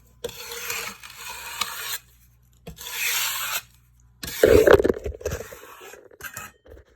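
A pastry scraper rasps across dirt in three distinct scraping strokes, each lasting about a second or more, up close, with a louder, harsher final stroke.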